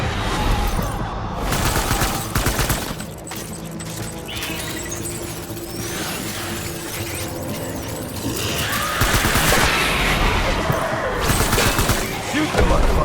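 Dense, loud gunfire in the video game Death Stranding, with rapid bursts and crashes layered over a booming game soundtrack that continues throughout.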